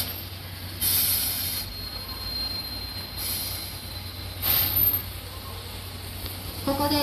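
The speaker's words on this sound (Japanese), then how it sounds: "SL タイプ号の登場です。" A C11 steam locomotive pulls in during rain, with faint rolling rumble, squealing wheels and short hissing bursts rising and falling over a soft, steady background.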